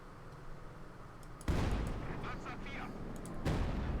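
Artillery bombardment in Company of Heroes 2 lands with two heavy booming impacts over a low rumbling battlefield, under a commentator's talk.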